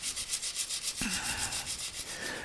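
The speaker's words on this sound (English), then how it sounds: "we are polishing nickel" A nickel silver casting is rubbed and polished with quick, rhythmic abrasive strokes, giving a close, dry, scratchy sound with one brief sharp tap partway through.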